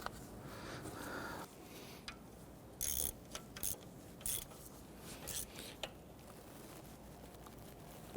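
A ratchet wrench tightening a bolt on an alternator bracket of a 1992-1996 Toyota Camry 2.2L four-cylinder, several short bursts of clicking separated by brief pauses.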